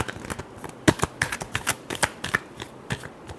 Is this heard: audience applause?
no